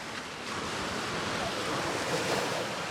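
Broadband rushing surf and churning sea water splashing against a wall in rain, steady and fairly loud, with wind noise mixed in; no distinct individual splashes stand out.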